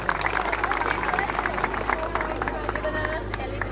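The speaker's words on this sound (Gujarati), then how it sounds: "આશીષભાઈનું આપણે જોરથી તાળીઓ પાડીશું અને એમનું સારામાં સારું સ્વાગત કરીશું" A village crowd claps loudly to welcome home a returning army man, a dense patter of applause mixed with voices and chatter.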